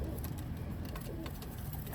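Oman Teddy pigeons cooing close by in soft, low repeated coos over a steady background hum, with no talking.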